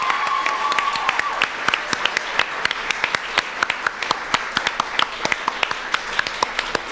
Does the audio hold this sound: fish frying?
no